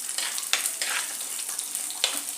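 Whole cinnamon, cloves, cardamom and fennel seeds roasting in a hot pan, a steady dry sizzle with a few sharper crackles and scrapes, close and alone.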